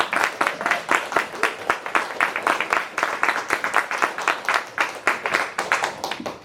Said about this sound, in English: can y'all give a quick round of applause to our panelists today?